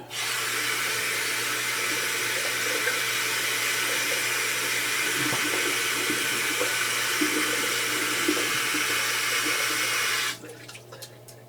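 A soft shaving brush with a floppy knot churns lather, a steady broadband wet swishing that runs continuously and close for about ten seconds, then stops abruptly into a few faint clicks.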